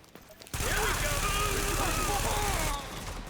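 Heavy automatic gunfire fills a video game firefight, loud and continuous bursts with rattling chatter for about two seconds, then dropping back to a quieter background.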